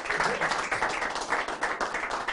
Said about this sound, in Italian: L'applauso ci sta bene.